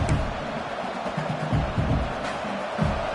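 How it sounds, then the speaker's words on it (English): Football stadium crowd at an Oregon home game, heard as a broad, steady roar of many voices that swells slightly in places, loud and continuous with no single voice standing out. "It's early, but this crowd is fired up. Listen to this noise here."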